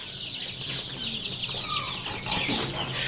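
Day-old native chicks and Tiger-breed chicks chirp and cluck together in a poultry farm hatchery, a dense, continuous chorus of high peeping with occasional lower clucks, fairly close and steady throughout.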